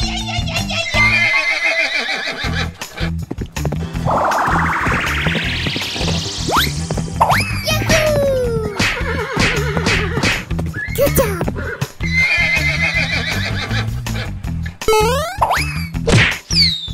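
A horse whinnies, a rising, strained neigh set among loud cartoonish whacks, boings and busy sound effects, with brief voices in the mix.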